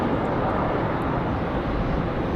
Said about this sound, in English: Comes our Air France Dreamliner